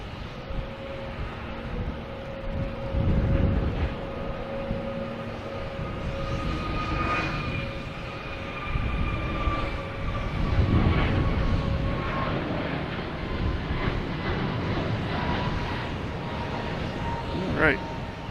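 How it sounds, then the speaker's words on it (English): An Aer Lingus Airbus A321neo, bound for Shannon, takes off from Boston Logan, its broad jet roar rising and swelling with a steady whine, while a commentator talks over it throughout. "Next taking off is Aer Lingus heading to Shannon in A321 Neo"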